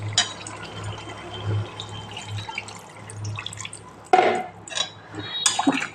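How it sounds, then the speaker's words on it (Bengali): Water poured into a pan of chicken curry to make the gravy, dripping and splashing steadily at close range, followed by a few clinks of a pot or utensil. "জল দিয়ে দেব ঝোলের মতো"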